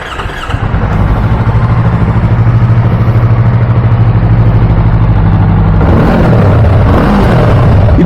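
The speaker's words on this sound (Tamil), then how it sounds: "இதோட 270 டிகிரி கிராங்க் சவுண்ட் பார்த்துடலாமா?" A 2024 Yamaha R3's parallel-twin engine with a 270-degree crank rumbles loudly close by, holding a steady throbbing idle before a sharp rev near the end.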